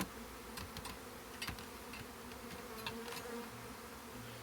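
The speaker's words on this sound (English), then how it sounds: "just great setup of bees. I mean, just a great bunch of bees, great bunch of brood" Honey bees buzz around a hive during hive preparation, a faint, steady insect drone with a few brief closer passes over quiet outdoor background, no speech.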